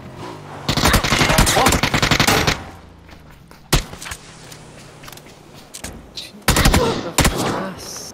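Automatic gunfire rattles in a video game shooter: a long loud burst, a single sharp shot, then two more bursts near the end, with quieter ambience between.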